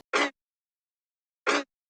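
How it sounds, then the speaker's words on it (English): A single clap sample used as a layer in a beat, struck twice with a long silent gap between the two short, crisp hits. "I just used this like singular clap"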